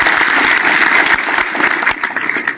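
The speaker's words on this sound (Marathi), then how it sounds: "टाळी वाजवून सर्वांनी" Audience applause at a comic kirtan, a humorous devotional sermon performance: dense, loud clapping from many hands running steadily throughout, with no voices over it.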